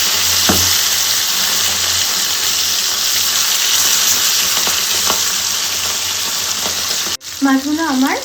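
Fish fries in oil with a loud, dense, continuous sizzle close by, broken by a few soft taps. It stops abruptly near the end before a brief burst of noise.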